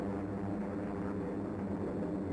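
A bomber aircraft flies in archival film footage, its engines giving a steady, continuous low drone that holds at an even level throughout.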